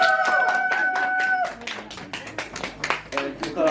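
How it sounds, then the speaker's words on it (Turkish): Scattered hand clapping at a wedding, with quick uneven claps mixed with voices and a brief sustained musical tone near the start. "Alkışlar yok mu?"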